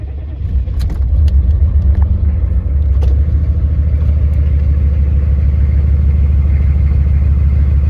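A 1988 Honda Civic is hot-started: a few quick cranking clicks, then the engine catches and settles into a loud, steady, close rumbling idle.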